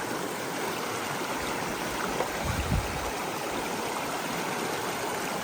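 Rushing river rapids along a hiking trail, a steady broadband roar of fast, shallow water flowing close by, continuous and unbroken throughout.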